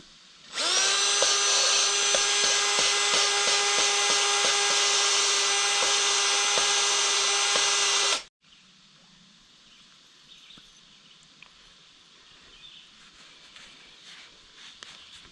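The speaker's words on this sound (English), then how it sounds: "I'm just going to chuck the valve in the drill, and we're going to do it power grinding" A drill spins a valve from an old Case 580CK backhoe to grind it with compound, a loud steady whine for about eight seconds that stops abruptly, leaving quiet faint scraping and room noise.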